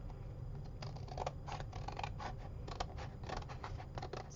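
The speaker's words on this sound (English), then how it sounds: "I'm just going to cut off the extra after the stitching." Scissors snip off excess fabric beside freshly stitched seams, a series of quiet close crisp cuts coming in small irregular clusters against a soft background hum.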